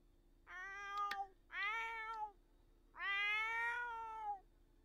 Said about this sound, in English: Don't worry, you friendly kitten.